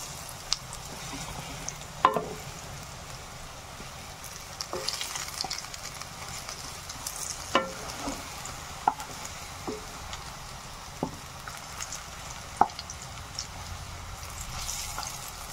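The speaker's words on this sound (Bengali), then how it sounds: "আস্তে আস্তে করে ভেজে নেব সবগুলো বড়া" Spinach pakora fritters frying in oil, a soft steady sizzle with occasional light clinks and stirs, fairly faint and close.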